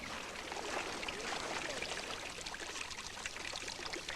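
Water runs steadily from a fountain at a Japanese shrine where people drink, a close, continuous splashing pour with no pauses.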